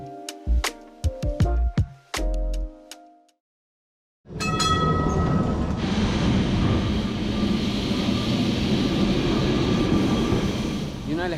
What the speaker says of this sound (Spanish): subirme a uno de los transportes más antiguos e icónicos de la ciudad, el tranvía 28